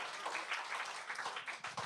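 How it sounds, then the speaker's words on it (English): Applause from a gathering audience for the banner makers, a dense, fairly quiet patter of many hands clapping throughout the short moment with no speech over it. "So round of applause for all of them."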